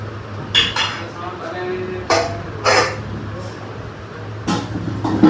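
Metal cooking pots being picked up and set down during room cleaning, several sharp clanks and scrapes coming in irregular bursts, close and fairly loud over a low steady hum.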